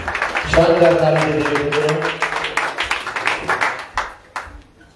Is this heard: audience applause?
yes